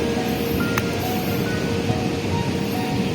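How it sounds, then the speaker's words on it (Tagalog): Strong sea waves wash and roar at a river mouth on the Zambales coast, heard as a steady broadband rush with wind noise, moderately loud and continuous, with no talk. "Malakas lang yung alon kaya dito kami pumisto sa tabang."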